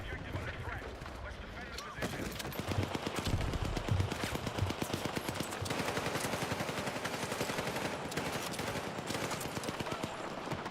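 M4 rifle fire in Battlefield 6: after a quieter opening, a long run of rapid, evenly spaced automatic shots crackles steadily at moderate distance, with faint speech mixed in.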